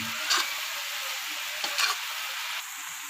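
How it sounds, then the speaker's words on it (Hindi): A rice and chicken mixture bubbling in sugar syrup and ghee over full heat, giving a steady close sizzle with a few brief louder spatters. "ये देखिए आपके सामने इस तरह ये बॉयल आ रहा है साथ में। ये सारा चाशनी में है और घी में है"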